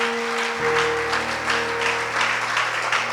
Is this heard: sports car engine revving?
no